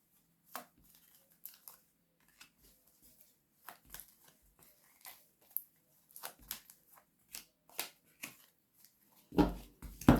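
Oracle cards being handled and laid over one another, producing sparse, soft papery taps and slides close by, ending with a louder rustle and thump.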